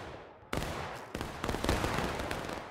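Musket fire in War of Rights, a Civil War battle game: several sharp, loud gunshots crack out one after another, then blend into a dense spattering of volleys over the battlefield.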